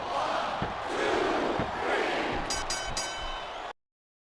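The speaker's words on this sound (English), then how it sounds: "the crowd has come alive tonight with a chant directed at the superstars in the ring" Crowd chanting in the wrestling video game WWE SmackDown Here Comes the Pain, a steady loud arena roar with rhythmic chant pulses, a few sharp bursts near the end, then an abrupt cut to silence.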